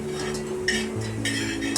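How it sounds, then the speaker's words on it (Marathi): Roasted coconut being scraped from a pan into a pot, with metal utensils clinking and scraping close by in a short, steady clatter over a low kitchen hum. "खोबरं आपलं भाजून तयार आहे। आता त्याच्या भांड्यामध्ये काढून घेऊया"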